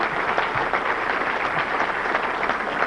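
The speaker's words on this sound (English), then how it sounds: "Let's have a round of applause for Terry Brown." A basketball hall of fame induction ceremony audience gives Terry Brown a steady wash of applause that fills the hall evenly from start to finish.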